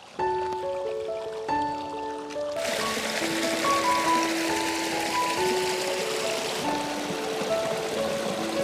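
Natural mountain spring water flows steadily in a hillside setting where drinking water is collected, a continuous close trickle and splash that persists throughout with faint tonal background sounds.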